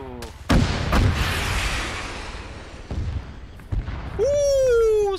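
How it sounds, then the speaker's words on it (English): Heavy high-explosive shells fired at a forward operating base in a military video game, a few loud booming impacts with rumbling tails, ending under a rising whine. "Lancer 1-1, load HE and start putting shells into that FOB."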